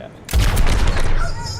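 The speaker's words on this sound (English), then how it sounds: "his right-click attack is to fire a cannon" A single loud cannon blast from an Overwatch hero's right-click attack, with a sharp booming onset and a rumbling tail fading over about a second, heard up close.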